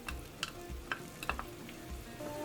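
Onion dropped into melted butter and oil in a frying pan for a vegetable and minced meat gratin, with a faint sizzle under a series of sharp ticking utensil taps and low thumps at a loose rhythm; no talk.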